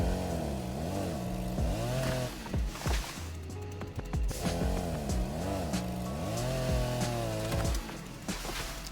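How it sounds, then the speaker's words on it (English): Chainsaw felling trees in the survival game Rust, its engine revving and bogging in repeated cycles with rising and falling pitch, loud and close, with woody crunching as cuts go through, no talking. "Found this chainsaw in a red toolbox. So I thought I'd better use it."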